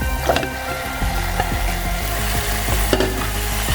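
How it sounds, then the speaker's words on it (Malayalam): Chicken goes into spice masala frying in a pan, making a loud, continuous sizzle with rhythmic stirring scrapes and occasional spatters, up close and with no talk. "ഈ സമയത്ത് ഞാൻ ആ ചിക്കനും കൂടി ചേർത്ത് കൊടുക്കുകയാണ്."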